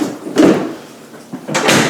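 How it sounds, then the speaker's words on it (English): A house door is swung and closed during a home inspection, giving a couple of close, fairly loud swishing and bumping sounds separated by a brief quiet gap. "we're looking at the doors to make sure they're not rubbing when they close"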